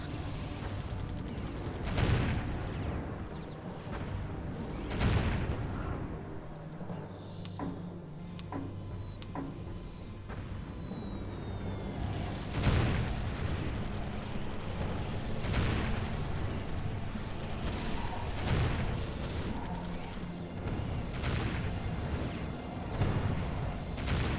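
Gun towers firing in the tower-defense video game Defense Grid, a dense stream of booming shots and blasts that keep coming over a constant low rumble of game noise, with the loudest bursts falling every few seconds.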